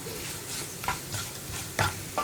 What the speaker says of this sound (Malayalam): ഈ പൊടികളുടെ ഒരു റോ ടേസ്റ്റ് മാറി വരുന്നത് വരെ നമ്മളൊന്ന് 1 മിനിറ്റ് ഒന്ന് ലോ ഫ്ലെയിമിൽ വെച്ച് ഇളക്കി കൊടുക്കണം